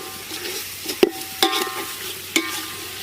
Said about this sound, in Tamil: நல்லா மசாலா பெரட்டுற அளவு நல்லா பெரட்டிக்கலாம்